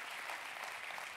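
A church congregation claps for a visiting guest pastor from Zambia, a brief burst of steady, moderately distant applause with no voices.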